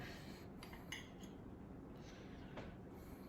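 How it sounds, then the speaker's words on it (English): Metal cutlery clinks lightly as a spoon is picked out from among other utensils in a kitchen, a few faint scattered chinks over a steady background hiss. "Let me just grab a spoon for my rice."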